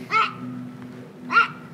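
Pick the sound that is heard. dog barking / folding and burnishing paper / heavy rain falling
dog barking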